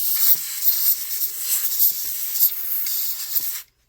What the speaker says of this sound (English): So we can spray here and see if we get any stuff out of it and help dry it out a little bit.